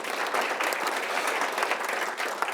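Sustained applause from an audience at a Wakefield Area Chamber legislative breakfast, a dense, steady wash of many hands clapping at once without a break, with no talk over it.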